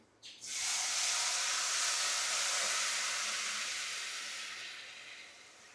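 A sudden loud hiss as spices hit hot oil, a dense sizzle that slowly fades over several seconds, with no voices.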